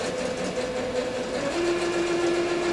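A sewing machine back stitching the pocket seams of a homemade hot cold pack runs with a steady close mechanical whir, its pitch shifting partway through, with no voices.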